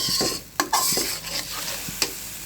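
Spice paste frying in a pan with a little oil, cooked with ash gourd, gives off a steady close sizzle broken by a few sharp scrapes and clacks from a stirring spoon.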